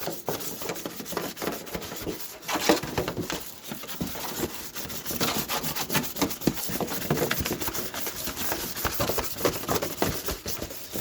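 Sandpaper or Scotch-Brite scuffing a clear RC car body to prepare it for paint, a close, steady back-and-forth rubbing and scratching in quick irregular strokes, fairly quiet, with no voices.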